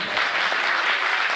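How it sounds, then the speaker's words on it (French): A crowd applauds a young singer at a local singing competition, a dense, even round of clapping that stays loud and close for the whole stretch. "bah c'est déjà bien, on l'applaudit."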